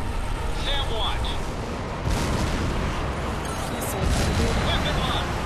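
An enemy ship explodes in the combat flight game H.A.W.X., heard as a steady, dense roar with heavier broadband bursts near the middle and end, under faint radio-style cockpit tones.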